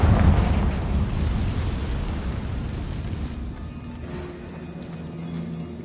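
A Confringo blasting spell explodes in Hogwarts Legacy, a loud booming burst with deep rumble at the start that slowly fades into a lingering low roar.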